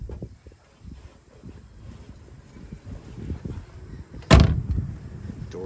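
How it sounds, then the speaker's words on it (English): A 1966 Ford Mustang barn find's door shuts with a single solid thump near the end, after a stretch of quiet low background rumble. "Door shuts like a glove."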